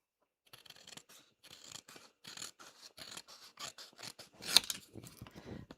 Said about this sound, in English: So I'm going to cut him out.